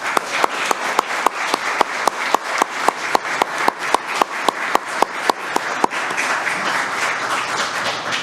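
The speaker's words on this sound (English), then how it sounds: "Please give these individuals a round of applause." Audience at a school board meeting gives a round of applause, steady clapping from a modest crowd in a room, sharp individual claps standing out before it thins toward the end.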